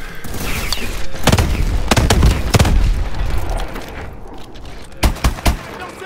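Video game gunfire and grenade explosions from Call of Duty Advanced Warfare, with loud booming blasts and sharp shot bursts packed closely through the first half, then a quieter stretch before three more sharp reports near the end.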